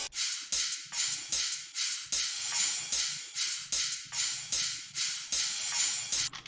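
Layered drum percussion samples from a dubstep production combine into a loud, repeating pattern of sharp, bright hits with noisy, hissing tails, pulsing roughly every half second, with no voices.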